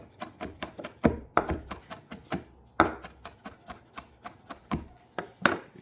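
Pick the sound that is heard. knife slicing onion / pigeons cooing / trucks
knife slicing onion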